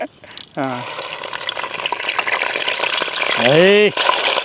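Crushed onions frying in oil in a pan for a prawn gravy, a steady crackling sizzle that swells louder near the end, while voices speak over it throughout.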